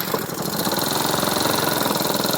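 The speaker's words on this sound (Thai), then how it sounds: "ตอนนี้เครื่องติดแล้วนะ" A Payoo 764 BX four-stroke turbo crop-sprayer engine with twin intake pipes runs steadily nearby, a loud, even mechanical drone with a fast regular throb and no voices.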